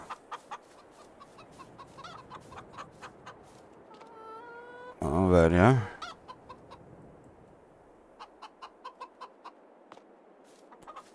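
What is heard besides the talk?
chickens clucking in Farming Simulator 22 video game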